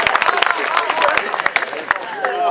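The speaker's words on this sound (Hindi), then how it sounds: "तो एक बार चाहता हूँ तालियां थोड़ा घनीभूत कर दिए" A comedy poetry event audience claps in dense, quick bursts, loud and close, with a voice talking over the applause.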